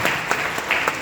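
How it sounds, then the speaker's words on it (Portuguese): Church congregation claps together during a sermon, a brief, full burst of steady applause filling the room. "Uma salva de palmas para Jesus"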